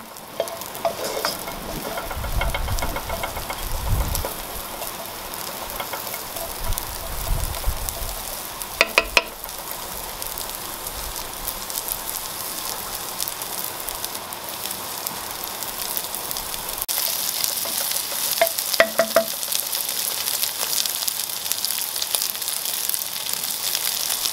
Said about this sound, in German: Als erstes nehme ich eine tiefe Pfanne, erhitze die und brate die Chorizo-Würfel ohne Öl